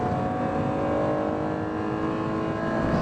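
Acura NSX first-generation V6 engine revving hard above 6,000 RPM on VTEC, a sustained loud, steady howl running the whole stretch without a break.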